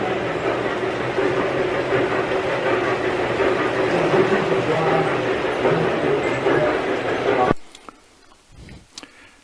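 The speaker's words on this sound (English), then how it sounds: "a G gauge up in the attic, and when you push the button, it runs around" A G gauge toy train in a museum attic rumbles and clatters steadily around its track for several seconds, then stops abruptly, leaving faint clicks and rustles.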